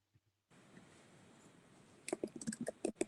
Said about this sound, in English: And I hear someone typing.